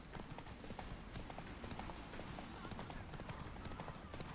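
Roach the horse galloping in the video game Witcher 3, rapid continuous hoofbeats drumming close and loud for several seconds.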